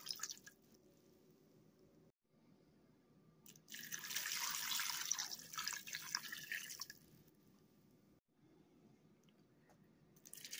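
About six cups of water are poured into a slow cooker for carrot, split pea and ham soup, making a soft, steady splashing pour of a few seconds set between quieter pauses.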